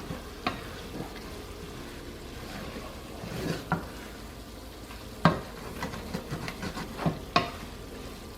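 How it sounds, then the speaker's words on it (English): Pork ragu being scraped loose from the bottom of a pan, scattered scrapes and clinks over a low simmering bubble, with sharper scraping strokes coming in bursts. "Just scrape until everything is not stuck to the pan anymore."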